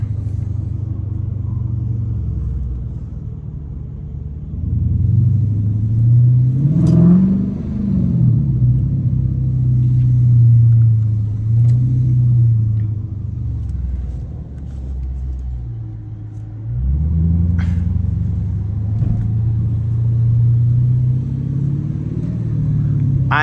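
A Dodge Challenger R/T's engine rumbles steadily while driving through suburban streets at night, with two rising revs around downshifts. The low, loud exhaust drone carries throughout, with no talking.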